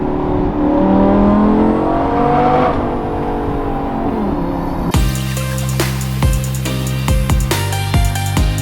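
Engine of a Lamborghini revving under way, a rising whine that climbs in pitch, then a sharper, harsher roar with rapid throttle blips and gear changes. Loud and close throughout, no talk.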